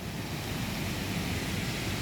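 A waterfall near Chiang Mai, Thailand, gives a steady, broad, hissing roar from a short distance, unbroken and moderately quiet with no voices.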